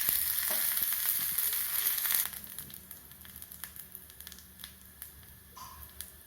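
Green chilli and curry leaves crackle in hot oil as a tempering for bottle gourd raita, a bright sizzle that drops after a couple of seconds to quieter, scattered popping and spitting.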